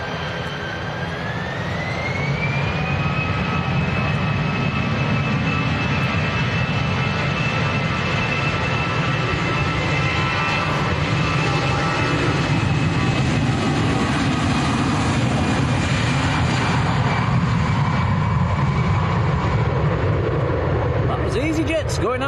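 An Airbus A320 jet roars at Manchester Airport, a loud sustained engine rumble with a rising whine that builds in the first seconds and holds steady, with a voice talking over it.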